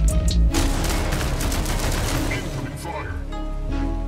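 Sustained rapid minigun fire from a mech in the Mech Arena game, a dense loud buzzing stream with a heavy impact at the start, continuing under a brief voice.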